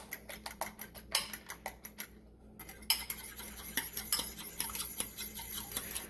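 A whisk clicks rapidly against a bowl while eggs are beaten, light rhythmic metallic taps close by, briefly pausing before resuming in quick, uneven bursts.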